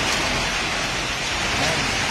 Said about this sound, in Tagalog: Talagang walang tigil po ang pagbayo ng ulan ngayon sa Zaragoza ngayong gabi.